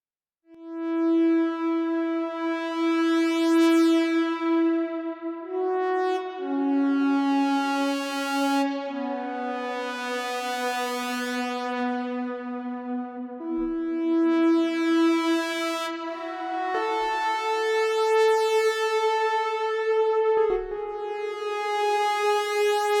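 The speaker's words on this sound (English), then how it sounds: "That's the Blade Runner lead brass sound on Vital." Vital software synthesizer playing a Blade Runner style brass lead, a sustained melodic line of bright, harmonically rich held notes that glide between pitches, soaked in a dirty hall reverb, loud and alone with no talking.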